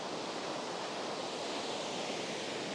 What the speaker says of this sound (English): look at this waterfall. That's a 90-footer.